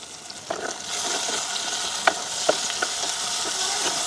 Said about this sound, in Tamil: செத்தல் மிளகா வேகமாக எங்களுக்கு வதங்கிட்டோம்